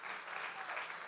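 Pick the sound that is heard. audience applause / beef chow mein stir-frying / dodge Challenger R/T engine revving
audience applause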